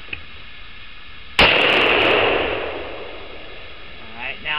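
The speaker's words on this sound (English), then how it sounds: "Let's see just how much muzzle rise we get running the flash hider and no muzzle" A rifle fitted with an A2-style flash hider and no muzzle brake fires a single loud, sharp shot that decays over about a second, followed by quiet outdoors.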